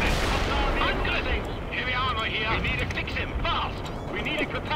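Battle sounds from the real-time strategy game World in Conflict: gunfire and booming artillery rumble constantly beneath radio-style unit voice lines that call out over the combat.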